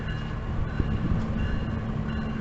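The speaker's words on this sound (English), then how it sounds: "There goes the smart train" A SMART commuter train rumbles past nearby with a steady low roar and mechanical hum, wheels rattling faintly on the track throughout.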